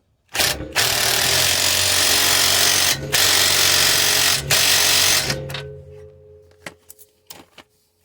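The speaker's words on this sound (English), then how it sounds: "I have my deep socket, 17 millimeter, and we're gonna drive this on home" Power tool driving a 17 mm deep socket onto a bolt on a Mercedes-Benz C240 rear suspension: several loud bursts of whirring with brief pauses, then quieter clicks and taps as it stops.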